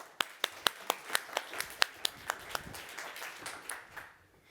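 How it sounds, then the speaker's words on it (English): Sparse, distinct claps from a small audience greeting Ambassador Annika Marcovic, a few hands beating out a loose rhythm of sharp, separate slaps that slowly taper off. "a big applause to Ambassador Annika Marcovic"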